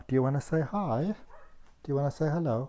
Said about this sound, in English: That's my dog barking outside.